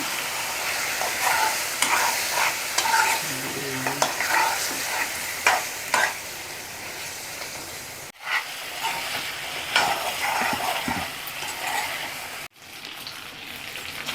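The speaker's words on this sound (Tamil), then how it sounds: "இதை நல்லா கலந்து வேக வச்சுக்கலாம்." Marinated chicken frying in hot oil in a kadai for butter chicken masala, a loud continuous sizzle close by with repeated scraping and clattering strokes of a spatula stirring, and two brief dips in the noise.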